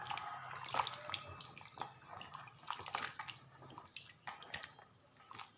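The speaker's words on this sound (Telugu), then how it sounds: "ఈ కట్ చేసుకున్న గుమ్మడికాయ ముక్కల్ని ఇలా వాటర్లోకి వేసి కడుగుతున్నాను" Cut pumpkin pieces are washed by hand in water in a village kitchen, giving quiet, close splashes, drips and squishy sloshes that come in irregular bursts.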